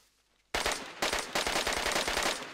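Rapid automatic gunfire in DayZ, a loud burst of closely spaced shots starting abruptly after a brief quiet, then several more bursts in quick succession.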